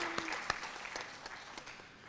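Applause for the female MC at a Bharatanatyam arangetram: moderate, even clapping from a hall audience, fairly soft and steady throughout the short stretch.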